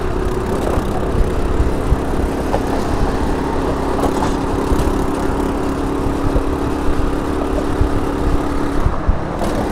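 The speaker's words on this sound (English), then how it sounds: "So this bike is having trouble laboring up the slope past 35 miles an hour." A 2009 SYM Symba motorcycle on an evening ride to Brooklyn labors up a slope, its small engine droning at a strained, steady pitch under road and wind noise, with no talking.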